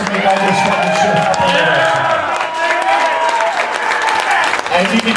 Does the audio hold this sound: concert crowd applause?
yes